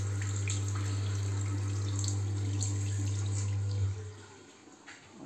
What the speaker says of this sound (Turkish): suyu açar açmaz motor çalışıyor yukarıda. Ve sıcak su bu basınçta artmaya başlıyor.